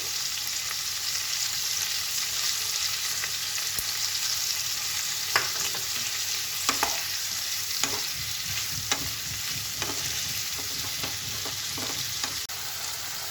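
Tomatoes with salt cook in a pan for kaju capsicum masala, giving a steady close sizzle and fry with scattered clinks and scrapes of stirring, no voices.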